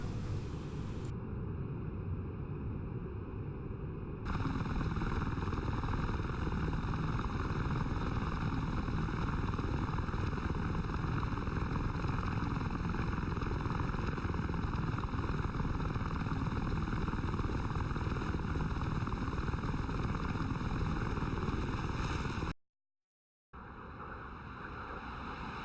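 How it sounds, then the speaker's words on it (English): Mi-24 Hind attack helicopters in the DCS World flight sim over the Kola map, a loud, steady broadband engine and rotor roar with a constant hum that holds nearly unbroken, cutting out briefly near the end. "Those are helicopters. Hinds, if I'm not mistaken."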